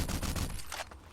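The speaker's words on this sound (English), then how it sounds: "If I just empty the mag here, and I'll give you the demonstration of how fast this thing can shoot." An AS50 anti-materiel rifle in Fallout 4 fires a rapid string of loud shots in quick succession, emptying the magazine in about a second.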